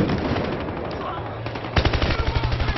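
Rapid automatic gunfire in the video game Battlefield Hardline, a dense burst of close, loud shots rattling in quick succession, then a sharper regular string of rounds near the end.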